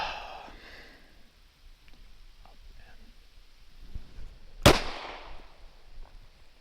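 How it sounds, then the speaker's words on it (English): A single sharp handgun shot cracks out at a shooting range, loud and close, standing out against quiet background noise and soft breathing. "So both those shots are exactly where you called it."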